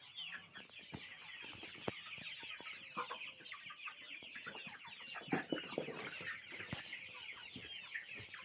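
Many chicks and chickens cluck and chirp all at once, a busy, continuous chatter of fowl with scattered rustling, close by and fairly quiet.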